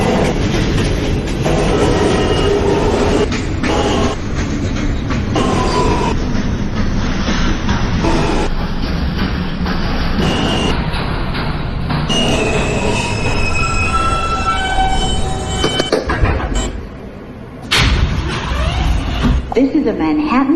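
A Manhattan-bound NYC subway J local train runs between Van Siclen Avenue and Alabama Avenue, a loud rumble with clattering wheels and high, drawn-out wheel squeals, while a recorded voice makes announcements.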